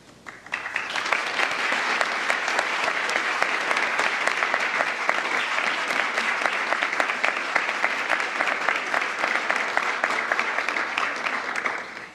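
An awards ceremony audience breaks into sustained applause, a dense wash of many hands clapping that swells quickly and holds steady for over ten seconds, loud and close, with no talking over it.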